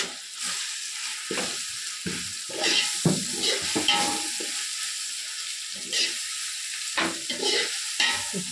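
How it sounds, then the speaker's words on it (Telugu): Food frying in oil in a pan sizzles steadily up close, with irregular bursts of stirring and scraping throughout. "వేయించుకోవాలి. ఆయిల్ సరిపడకుంటే మరి కొద్దిగా యాడ్ చేయాలి."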